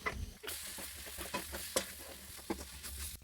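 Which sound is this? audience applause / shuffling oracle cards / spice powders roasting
spice powders roasting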